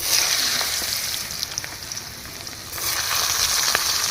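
Winter vegetables with potatoes and added carrots sizzle and fry in a pan for khichuri, a steady close crackle with small spatters, briefly softening midway before rising again.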